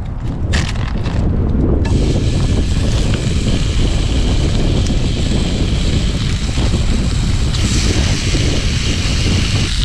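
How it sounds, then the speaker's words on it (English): Strong, relentless mountain wind buffets a remote truck camp in the morning, a loud continuous roar with gusting microphone rumble throughout and no talking. "the wind is just absolutely relentless here this morning"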